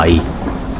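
Thunderstorm with heavy rain that floods a whole town, a loud rumbling roll of thunder over a steady wash of rain, the thunder fading after the first fraction of a second.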